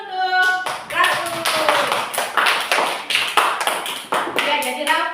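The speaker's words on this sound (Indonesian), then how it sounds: "Tepuk tangan dulu untuk Ratu" Classroom clapping for a girl named Ratu, with children and a teacher's voice mixed in, rhythmic hand claps in bursts over about five seconds, fairly close and loud.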